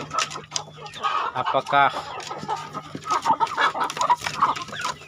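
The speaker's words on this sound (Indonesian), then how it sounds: "Jago ini satu kelompok indukan sudah." A breeding flock of hens and a rooster clucks and squawks nearby in repeated bursts, with a person speaking over the birds.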